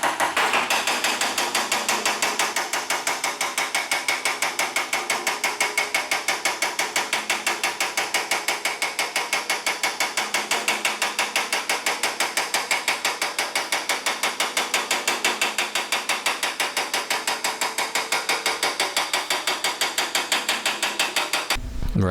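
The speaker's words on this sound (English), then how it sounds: "getting the low spots out by slightly hammering on those until they become flat with the rest of the panel" Rapid, steady metal hammering on a WACO aircraft wheel pant panel as low spots are tapped flat, a dense, evenly paced stream of sharp light blows running close and loud for about twenty seconds with no talk.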